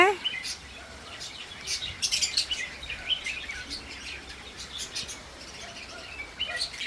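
Birds around nesting pots chirp in quick, scattered high tweets over a steady outdoor background, fairly close and repeated throughout.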